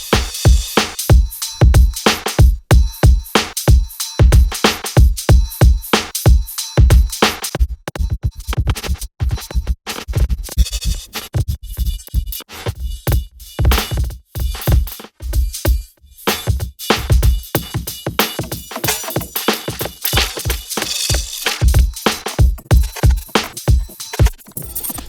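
A grain delay plugin chops a sound into a dense, stuttering stream of rapid crackling fragments and glitchy bursts, loud and continuous for about twenty-five seconds with no talking.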